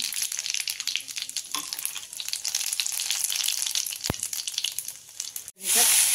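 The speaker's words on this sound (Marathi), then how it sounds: "आता कढई आपली तापलेली तर आहेच, मोहरी झालेली। आपण जिरे थोडे टाकून घेऊ।" Cumin seeds hit hot oil in a heated wok where mustard seeds have already popped, giving a steady, close sizzling hiss with a sharp click partway through and a louder burst of sizzle at the end.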